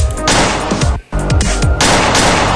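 Loud, dense automatic gunfire from a game weapon resembling a Tommy gun, in sustained bursts broken by a brief pause.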